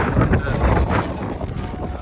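Strong gusting wind buffets the microphone in a continuous low rumble, with broadband roar rising and falling throughout.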